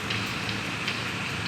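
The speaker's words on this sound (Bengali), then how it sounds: "আবার বৃষ্টি শুরু হয়ে গেল" Steady rain falls at night, a dense continuous hiss with faint scattered drop ticks, fairly loud and even throughout, with no voices.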